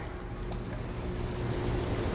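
Ship elevator rising in Dishonored, a steady low mechanical rumble with rushing water and wind-like wash, continuous and fairly loud, with no voices.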